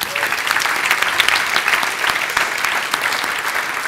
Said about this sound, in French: Je veux qu'on leur donne une bonne main d'applaudissement